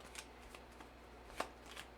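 Playing cards are shuffled at a tabletop game session, giving a few quick, soft riffling bursts up close with a sharper snap near the middle, quiet and without talk.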